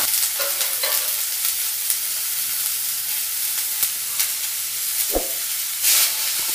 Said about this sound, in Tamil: கொஞ்சம் வெங்காயம் போட்டு நல்லா கொஞ்சம் பொன்னிறமாக வறுத்துங்கள்